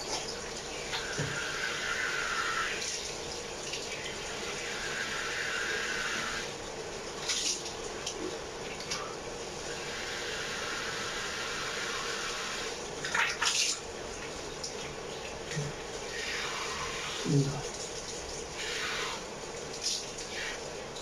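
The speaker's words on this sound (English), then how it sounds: "Now we're going to wash the face." Tap water running steadily into a basin while the face is washed for wudu, a continuous close splashing rush with intermittent heavier splashes and drips as hands move through the stream.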